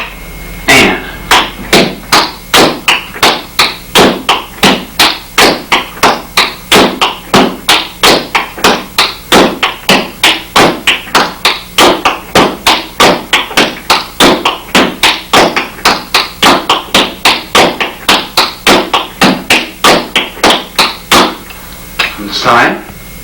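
Flatfoot dance footwork repeats a drag, pop and flat step pattern, producing a long run of crisp, evenly spaced shoe taps on a hard floor, loud and close, about two or three per second.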